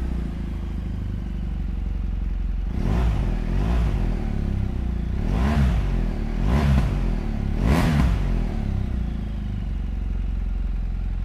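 A BMW R1200GS Adventure TE adventure-touring motorcycle in excellent condition idles with a steady, close boxer-engine rumble, then gives four sharp throttle blips in quick succession before settling back to idle.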